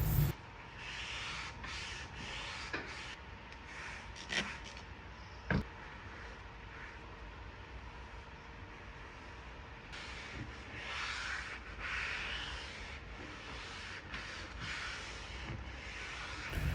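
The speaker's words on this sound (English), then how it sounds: "I kept sanding with my 150 grit sandpaper" Steady, scratchy rubbing of 150-grit sandpaper on an antique wooden piece, continuing in long strokes with a few sharp knocks, close and fairly quiet.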